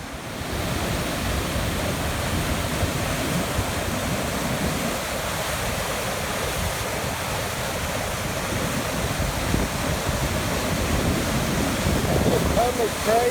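Torrent of water rushing through a channel just upstream of a waterfall, a loud, continuous broadband roar that stays steady from start to finish, with a faint voice under it.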